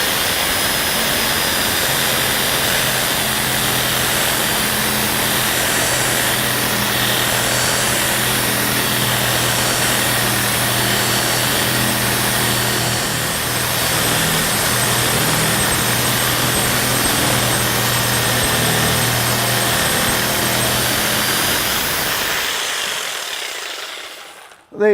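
A reciprocating saw fitted with a pruning blade cuts through a hard, seasoned log held in a vise, a loud continuous buzzing rasp for over twenty seconds before stopping abruptly.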